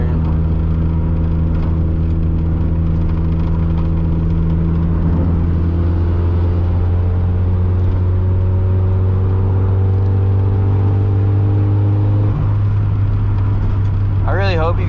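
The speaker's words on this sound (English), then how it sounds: "hear the blow off, hear the boost, everything" From inside a turbocharged 250 hp 1.6L Miata, the engine drones loudly and steadily with rising and falling pitch under load, and a brief sharper burst comes near the end.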